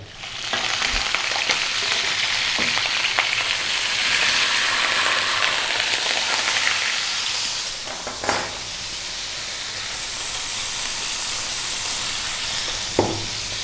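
Beef short ribs sear in a pan over medium heat, a loud, steady, close sizzle throughout with a few clacks and knocks of the pan or tongs, no talk.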